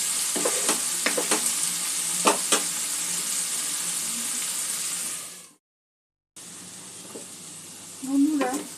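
Spiny gourd (kantola) frying with spices in a pan gives a loud continuous sizzle with spoon scrapes, a sudden silence partway through, then a quieter sizzle resumes with a faint voice near the end.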